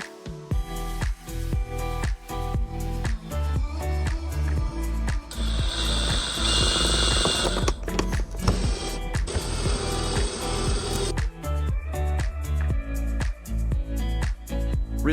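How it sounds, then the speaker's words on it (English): Ratchet clicking as it drives T25 screws into a Dodge Charger front side marker light assembly, a dense run of close, rapid pawl clicks through most of the stretch, with no talking. "Reinstall both T25 screws."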